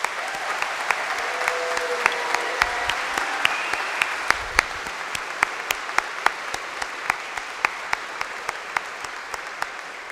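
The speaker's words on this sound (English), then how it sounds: "I think that deserves a well-deserved round of applause." Graduation ceremony audience applauds the graduates of a physician assistant program, sustained even clapping with a few sharp individual claps standing out over about ten seconds.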